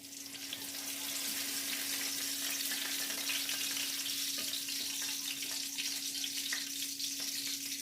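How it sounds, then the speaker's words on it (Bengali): Whole tomatoes deep-fry in a generous amount of oil, giving a steady, close, continuous sizzle with a faint constant hum beneath it and no talking. "একটু বেশি করে তেল দিয়ে ভাজতে হবে"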